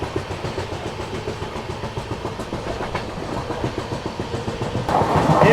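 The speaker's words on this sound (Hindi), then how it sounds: "ये थी आपकी चेन्नई सेंट्रल नई दिल्ली ग्रैंड ट्रंक एक्सप्रेस।" The Chennai Central–New Delhi Grand Trunk Express passes close by with a steady rhythmic clickety-clack of wheels over rail joints, its rumble swelling louder toward the end.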